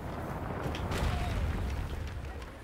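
A cannon firing in the video game A Plague Tale: Requiem, a heavy low boom with a rumbling tail that fills the short clip over dense background noise.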